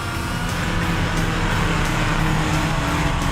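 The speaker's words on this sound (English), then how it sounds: "give it full revs, dump the clutch, and away she goes" A car engine roars at full revs for a launch, a loud steady drone from start to finish with faint rhythmic pulses.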